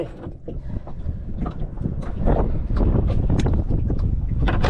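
Strong wind gusting at a riverside fishing spot beside bamboo stakes, a loud, steady roar of buffeting wind noise across the microphone that swells louder midway and stays heavy to the end.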